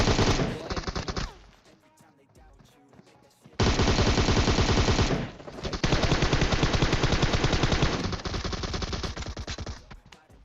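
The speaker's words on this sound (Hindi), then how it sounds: "अब जोश जोश में मैं प्री फायर हर जगह देता हूँ" M762 assault rifle fire in PUBG Mobile, loud sustained bursts of rapid automatic shots separated by brief pauses, the longer bursts lasting several seconds.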